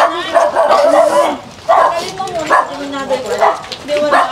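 Dog barking in short repeated yaps, fairly close, mixed in with people talking around a family home.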